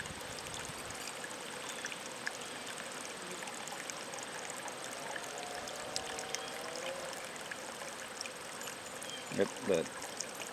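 Honey bees buzz steadily around beehives outdoors, a soft continuous hum with a couple of brief louder passes near the end.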